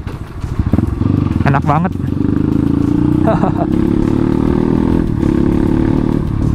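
A bored-up 200cc Kawasaki KLX supermoto engine starts and keeps running with a loud, steady, close idle, while someone talks over it throughout.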